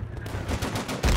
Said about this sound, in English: We got an enemy MG over here.